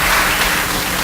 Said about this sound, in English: That one always gets applause.